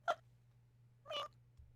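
A cat meows twice in Murder by Numbers, a short sharp cry then a longer drawn-out meow, close and clear over a low steady hum with no talking.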